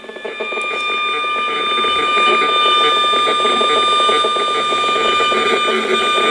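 An acoustometer RF meter in an upstairs loft bedroom squeals with steady high electronic tones and a rapid buzzing pulse, picking up a neighbor's wireless internet and cordless phones, loud and continuous.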